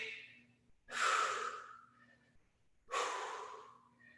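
Heavy breathing during a fitness workout session, two loud, breathy exhalations close to the mic, each sharp at onset and fading over about a second, separated by quiet pauses with a low steady hum beneath.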